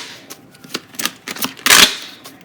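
Tarot cards are shuffled up close: a few quick flicking taps, then a short riffling burst, with no voices.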